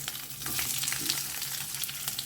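Roughly chopped onions, two of them, sizzle and fry steadily in hot oil with cumin seeds for a matar paneer base, a close, continuous crackling hiss with faint stirring and no talking.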